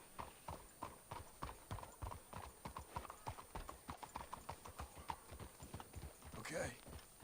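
Horses walking in Red Dead Redemption 2, a steady close clip-clop of hooves in an even plodding rhythm, with a short snort near the end.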